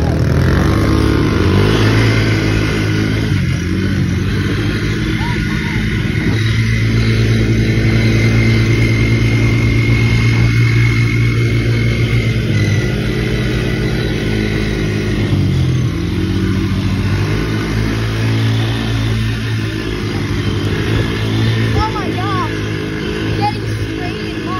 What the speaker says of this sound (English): we got our Sportsman 110 Polaris four-wheeler